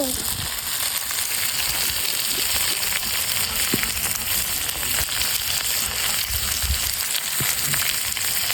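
Tomatoes hit a hot pan for a noodle soup and sizzle steadily, a constant loud frying hiss with occasional small clinks and stirring.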